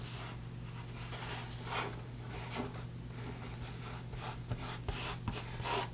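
Paper being folded and creased by hand for a book cover, with soft rubbing and sliding strokes and a few light taps over a steady low background hum, close and fairly quiet.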